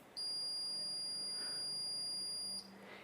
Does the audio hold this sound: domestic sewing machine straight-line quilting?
no